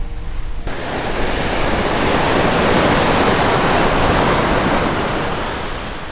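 Ocean waves breaking on the Brittany coast, a loud continuous roar of surf that swells and holds steady, close by, with wind buffeting the microphone and no voices.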